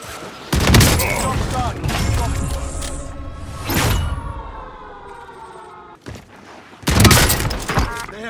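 Akimbo shotguns firing in a video game, heavy booming blasts in bursts with ringing, chaotic battle noise between them and a voice shouting over the action.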